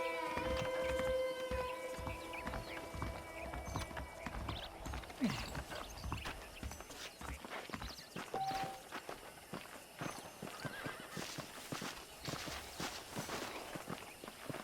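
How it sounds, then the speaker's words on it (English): Horse hooves clip-clop steadily in the Red Dead Redemption video game, a regular walking rhythm heard close, with soft in-game musical tones in the background. "I picked out a fine horse for you."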